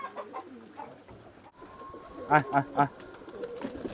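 Pigeons in a loft eating from a hand while cooing; soft nearby coos and a few rhythmic calls rise over quiet movement, and someone talks at times.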